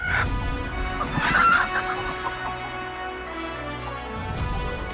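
Chicken clucking and squawking in a royal court, a few sharp close cackles over a room murmur, with a short crowing-like call near the start and a quieter stretch before another burst at the end.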